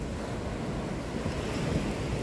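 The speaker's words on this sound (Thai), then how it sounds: "อันนี้เรียกว่า า ทะเลอ่าวไทย ลมแรง น้ำก็ขึ้น" Gulf of Thailand surf at Hua Hin in strong wind and a rising tide, a constant broad wash of waves mixed with gusty wind buffeting the microphone, steady and fairly quiet.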